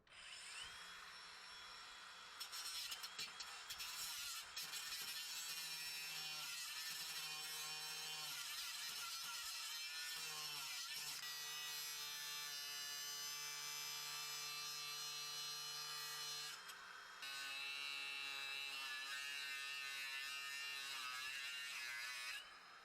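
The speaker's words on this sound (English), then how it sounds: "use a angle grinder with a cutoff wheel. Come in here, cut the bolt" An angle grinder with a cutoff wheel slices through a leaf spring bolt on a 1998 Ram truck, giving a loud, sustained high-pitched metallic whine that wavers as the wheel bites and briefly eases off partway through.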